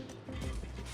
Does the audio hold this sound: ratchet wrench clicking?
yes